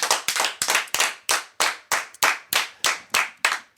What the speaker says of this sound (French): En tout cas, on peut applaudir Cathy